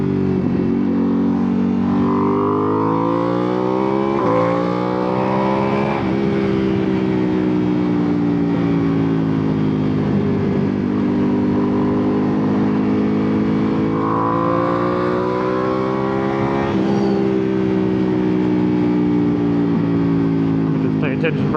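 A 2025 Ducati Panigale V2 S riding through downtown streets, its engine note droning loud and steady close by, rising and falling with throttle changes across the whole stretch.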